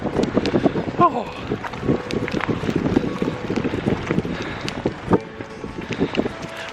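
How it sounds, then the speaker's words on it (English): Cold wind buffets the microphone while riding a trike through Essex in the south of the UK, a constant rushing roar with gusts under occasional talk. "Gosh, that wind is cold."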